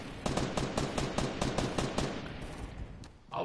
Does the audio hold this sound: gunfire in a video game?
yes